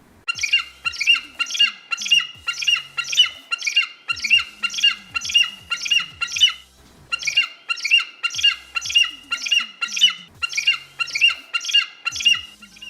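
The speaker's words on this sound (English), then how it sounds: "Eagle." Eagle call from an interactive children's demo book, a loud, repeated screeching squawk in rapid bursts, separated by a short pause, with no talk over it.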